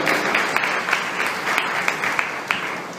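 Church congregation applauding during an Urdu-language Pentecost sermon: steady, dense clapping from many hands, fairly close and full, with a few sharper individual claps standing out. No talk is heard.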